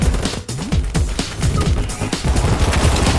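Gunfire in the video game BattleBit Remastered, a busy, loud barrage of overlapping shots and impacts with no pause and no speech.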